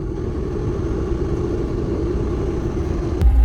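A used car's engine runs at an auction lot with the air conditioning switched on, a low steady rumble close by, ending in a brief louder thump.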